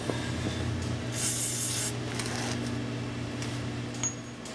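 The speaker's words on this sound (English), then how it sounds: "First we're going to WD that up really good." WD-40 sprayed onto the ball joint nut of a Dodge Dakota, a close, steady aerosol hiss with one strong burst in the middle over low garage hum, and no voices.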